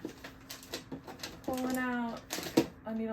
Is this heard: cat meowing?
yes